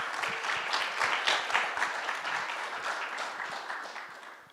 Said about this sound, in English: let's give them a round of applause to start off